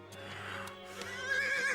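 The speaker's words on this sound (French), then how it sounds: "Mon cheval donne des signes de fatigue." A horse gives a short, close neigh that rises in pitch, with no talking.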